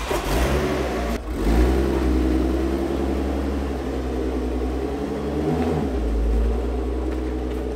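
An Audi TT 3.2 turbo engine runs and revs, a steady mid-pitched drone with a brief dip about a second in and another swell near the end, close and continuous throughout.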